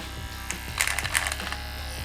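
A Cut Brush hair clipper hums steadily while cutting short hair, with a brief burst of buzzing, scratchy clipping in the middle, close and fairly loud.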